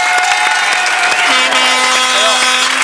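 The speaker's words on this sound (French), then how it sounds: "Sylvie Caron, 75 Paris, gagne donc 500 francs et on l'applaudit." A French TV game show studio audience applauds a winner, a broad, dense wash of clapping over a sustained tonal backing, with a voice mixed in.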